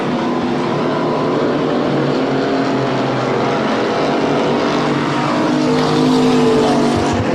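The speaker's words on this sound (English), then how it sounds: "Richard Nelson, the big body Monte Carlo, doesn't want to give it up over the big Caprice off of turn number 4" Race cars, a big-bodied Monte Carlo and a Caprice, run on an oval track, giving a loud, steady engine roar throughout with no breaks.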